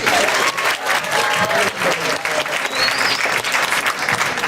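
Dense, steady applause fills the room at a poetry night as the audience claps for a poet, loud and continuous, with a brief whistle or cheer cutting through the crowd noise.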